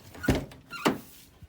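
Car doors on a worn Nissan 240SX beater shut twice in quick succession, each a solid close thunk with a short rattle, followed by a faint softer knock.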